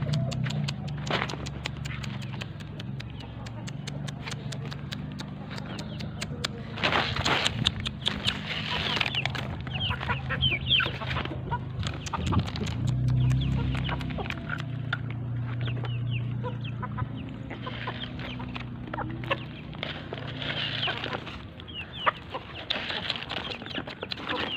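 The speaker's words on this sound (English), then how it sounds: "Those are my chicken, you guys. You just want to see how they want to follow me. When they see food, they just come." Backyard chickens clucking and chattering nearby as they crowd after someone bringing food, a continuous busy flock with scratching and pecking patter and occasional louder calls throughout.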